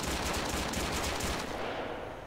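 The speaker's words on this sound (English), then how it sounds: "Fire it, pop the tire there." A burst of rapid gunfire in Arma 3 with RHS mods, aimed at a BTR-80 armored personnel carrier's tire, shots fired in quick succession, loud and dense, fading slightly at the end.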